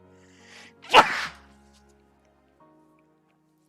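One loud, close human sneeze bursts out sharply after a short inhale, then fades into near silence with a faint hum.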